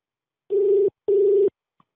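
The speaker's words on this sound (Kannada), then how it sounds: "ರಿಂಗ್ ಆಗ್ತಾ ಇದೆ." A mobile phone call plays through the loudspeaker as two steady ringing tones, each under half a second, separated by a short gap, with silence around them.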